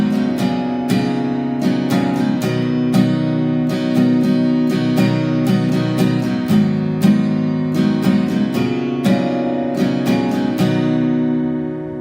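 A guitar strumming the chord pattern of a song's bridge: a steady down-and-up rhythm of bright strums, with chords left to ring between strokes, played alone.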